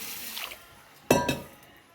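Water splashes briefly into a bowl of soaking cowpeas in a kitchen, a short faint trickle followed by a louder, close pour that quickly fades away.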